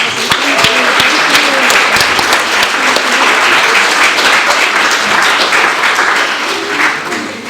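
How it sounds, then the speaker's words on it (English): Dense, steady applause from an audience at a talk given by a model, sustained and loud throughout with a few sharper claps standing out near the front. "I'm going to ask for a round of applause"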